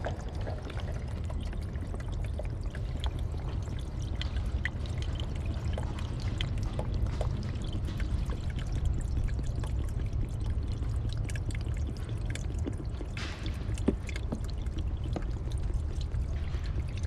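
Clean water pouring steadily into the cooling system of a Chevy S10 / GMC Sonoma 2.2L truck, a continuous close splashing stream with no talk over it.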